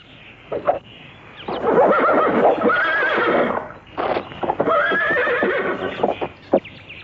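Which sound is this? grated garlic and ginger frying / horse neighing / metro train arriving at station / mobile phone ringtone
horse neighing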